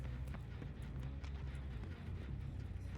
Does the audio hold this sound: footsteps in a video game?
yes